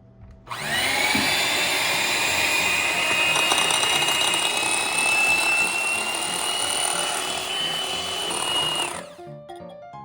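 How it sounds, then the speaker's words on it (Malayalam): An electric mixer beating sugar into batter for Japanese pancakes, a loud, steady motorized whine that starts abruptly, runs unbroken for about eight seconds, then cuts off. "ആ ഒരു കൺസിസ്റ്റൻസി റെഡി ആവുന്ന വരെ നമ്മളിങ്ങനെ ബീറ്റ് ചെയ്ത് സെറ്റാക്കി എടുക്കും"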